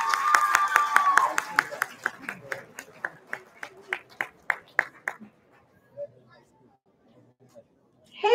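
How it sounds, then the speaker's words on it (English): A burst of clapping from a crowd at a cultural event after a performance, starting dense and fading into scattered individual claps, with a brief voice at the end. "Give a big round of applause for these wonderful ladies"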